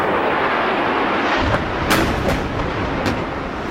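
A low-flying passenger jet, a Boeing 767 airliner over New York City, roars as a steady broadband rumble with brief rising swells, loud and sustained with no speech.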